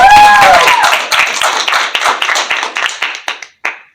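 Audience applause for a singer after her performance, dense clapping at first with a few whistles, then thinning into scattered claps that fade and stop, with one last small burst.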